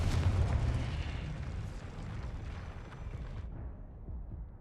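Confringo blast spell from a Harry Potter video game: a loud, roaring explosive burst that rumbles on and fades over several seconds, with no talk over it.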